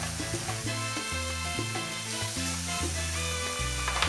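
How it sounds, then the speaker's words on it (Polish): Pork loin fries with a steady sizzle hissing continuously in a pan beneath music playing with a plodding bass line. "Smażymy z każdej ze stron po około 3-4 minuty."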